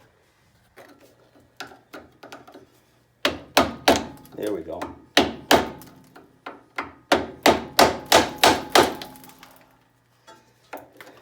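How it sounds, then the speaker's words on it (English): Repeated sharp hammer taps on a metal skid plate of a Dana 44 rear axle, a quick burst of a dozen strikes in steady rhythm, with a few lighter taps before and after and brief speech. "I'm going to take a hammer and gently tap that down out of the way."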